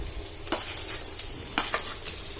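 A tempering of asafoetida sizzles in hot oil for sambar, a continuous close hiss dotted with sharp crackles and pops, with no speech.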